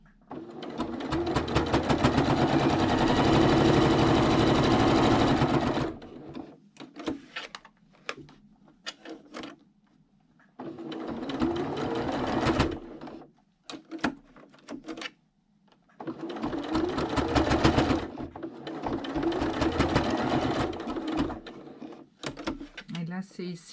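Sewing machine stitching a fabric mask in close, loud bursts, a long continuous run followed by several short stop-start stretches with quiet gaps between them.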